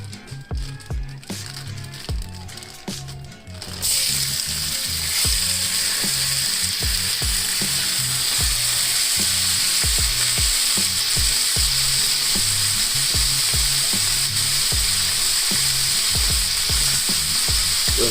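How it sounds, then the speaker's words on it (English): Beef short rib meat hits hot oil at about four seconds and sizzles loudly and steadily from then on, a dense frying hiss with scraping stirs and clicks layered over it. "now that the oil is nice and hot, I'm just going to go ahead and throw the meat in"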